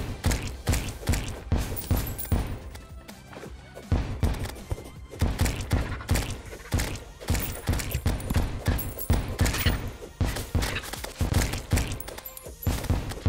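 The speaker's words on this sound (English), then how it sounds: "I'm gonna give you some more grenades until you can handle them" Grenades from the Seedler weapon pop and thud repeatedly while fighting pirates in Terraria: Journey's End, a rapid irregular barrage of punchy impacts that keeps up through most of the stretch with brief pauses.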